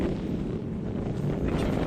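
Steady broadband wind buffeting the microphone on a cold, windy campsite, a continuous low rumble and roar with no voices over it.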